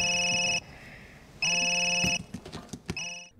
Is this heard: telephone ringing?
yes